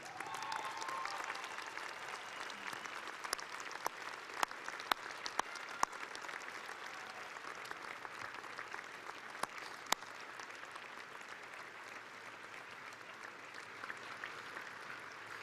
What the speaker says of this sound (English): our graduates to stand up, turn around, and applaud all of those who have supported you